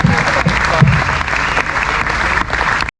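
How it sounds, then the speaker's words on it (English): Brief burst of loud, dense applause from an audience honoring a Bass Hall of Fame inductee at a Lake Mohave event, steady clapping that cuts off abruptly. "Round of applause for Don Avino,"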